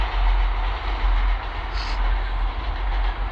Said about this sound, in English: the train just goes by